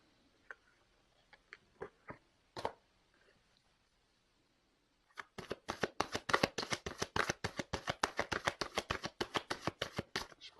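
Tarot cards are handled close and quietly, first with a few scattered taps and flicks, then a rapid, even run of crisp riffling card snaps.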